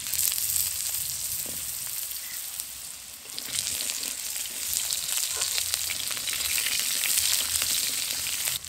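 Potato and sweet potato pieces fry in hot oil flavoured with black cumin seeds and slit green chillies, a dense crackling sizzle that thickens after a brief dip, with scattered stirring clicks and no talking.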